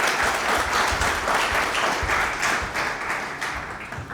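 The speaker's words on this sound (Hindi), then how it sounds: "और जोर से तालियां बजाओ यार" An audience at a Pune trading event applauds as a speaker is welcomed onto the stage, dense sustained clapping from a sizable crowd that swells and then slowly fades toward the end.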